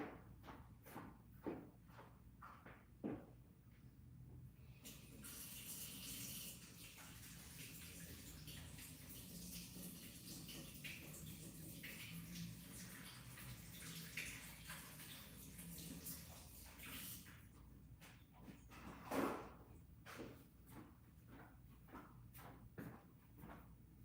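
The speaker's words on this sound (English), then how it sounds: "In the meantime, I'm gonna go wash my hands." Tap water runs steadily for around twelve seconds while hands are washed clean of paint, framed by clicks and knocks of handling and footsteps before and after, with no talking.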